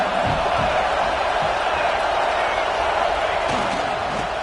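Constant roar of a stadium crowd in the College Football 26 video game during a California at UCLA matchup, loud and unbroken, with a commentator's voice talking over it.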